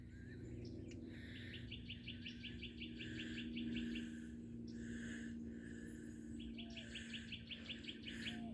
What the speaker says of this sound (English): Sounds like the birds are singing down there.